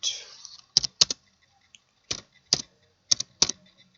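Computer keyboard keys clack in short, sparse bursts of one or two strokes while C code is entered, with crisp, close clicks separated by brief pauses and no speech.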